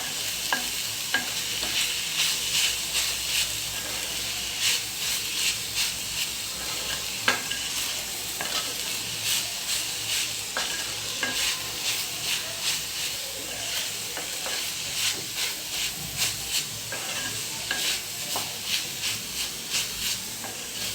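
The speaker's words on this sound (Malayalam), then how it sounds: "ഇതെല്ലാം കൂടി നന്നായി മിക്സ് ചെയ്ത് കൊടുക്കാം." Green beans stir-fry with green chillies, chilli powder and turmeric being tossed in a pan, a continuous close sizzle with rapid, rhythmic scraping strokes of the spoon throughout, no voices.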